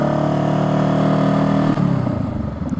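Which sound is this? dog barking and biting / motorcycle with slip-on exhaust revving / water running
motorcycle with slip-on exhaust revving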